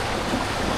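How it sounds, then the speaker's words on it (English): A loud, rushing water splash at the bottom of a long water slide at Disney's Blizzard Beach, a broad continuous wash of churning water filling the whole short moment. "And splash!"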